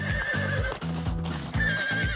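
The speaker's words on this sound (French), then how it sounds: "Un cheval devenu incontrôlable?" An out-of-control horse whinnies loudly and close, with quick clip-clop hoofbeats in bursts through the short stretch.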